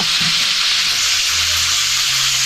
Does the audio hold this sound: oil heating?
yes